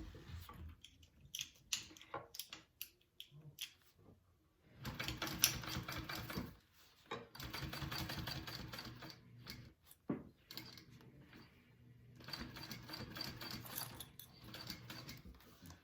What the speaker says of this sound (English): we're just gonna top stitch that down